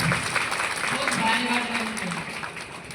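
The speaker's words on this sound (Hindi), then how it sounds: "जोरदार तालियों के साथ।" A crowd applauding at a large outdoor political rally, with continuous clapping throughout that is slightly muffled, while a voice speaks over it briefly.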